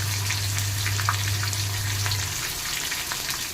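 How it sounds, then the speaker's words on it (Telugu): Cucumber pieces frying in a pan for a dosakaya curry, a steady close sizzle with light stirring scrapes and a low hum in the first part, no voices. "దోసకాయ ముక్కలు వేసి కలియబెట్టండి"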